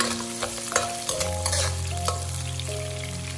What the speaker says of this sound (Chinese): 接下来放入姜蒜，继续把姜蒜炒香。